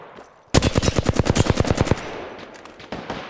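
Video game machine gun fire, a rapid loud burst of about fifteen evenly spaced shots lasting over a second, followed by fading echoes and a couple of softer distant reports, no talking.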